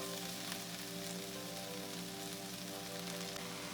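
Chopped leeks and mushrooms sauté in about two tablespoons of olive oil, making a steady, dense sizzle that carries unbroken at moderate level with no talk.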